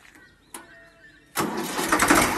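A 1990 Ford tractor's engine cranks and catches with a sudden loud roar, then keeps running rough and steady; a couple of faint clicks come before it fires.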